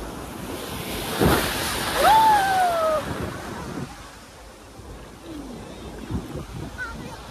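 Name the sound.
sea waves breaking on Goa beach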